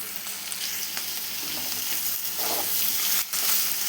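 Onions frying in a pan with oil, a steady loud sizzle and crackle that runs throughout, with a brief stir partway through.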